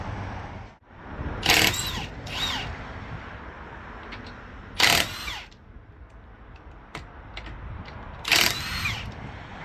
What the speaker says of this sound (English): I got a DeWalt, you know, impact driver right here too